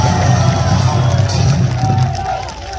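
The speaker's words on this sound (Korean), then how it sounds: "여러분의 이 함성과 이 격려 잊지 않겠습니다." Loud crowd cheering and shouting fills an outdoor presidential election campaign rally in Guri, South Korea, a dense continuous roar of many voices that eases slightly near the end.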